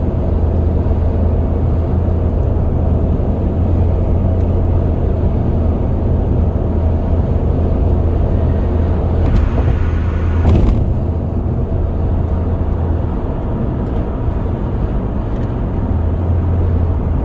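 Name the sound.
2004 Pontiac Vibe engine accelerating when given gas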